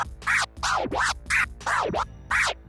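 A DJ performs a boomerang scratch on a turntable using the crossfader, with six loud, close, swooping record sweeps in a rapid back-and-forth rhythm, heard alone.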